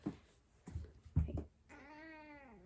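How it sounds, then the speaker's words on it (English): A house cat meows once, a drawn-out, clearly pitched call that bends downward at its end, following a few short thumps and handling noises nearby. "oh, sorry, that was my cat"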